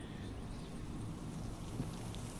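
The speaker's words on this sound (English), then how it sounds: "It started raining again" Rain falls steadily outdoors in a soft, continuous hiss, fairly quiet and even, with no other clear sounds.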